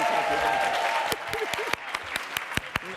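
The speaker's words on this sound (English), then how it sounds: "we're going to give him a round, warm applause right now" Applause from a conference audience at a leadership celebration, a dense wash that fades after a second into a few scattered, sharp individual claps with faint voices underneath.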